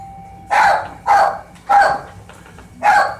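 Four sharp dog barks spaced about half a second to a second apart, close and loud, with quiet pauses between.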